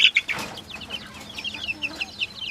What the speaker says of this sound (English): And then we have 4 silky chickens in here.